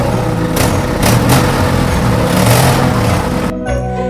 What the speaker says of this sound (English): very soon they could hear his truck motoring towards them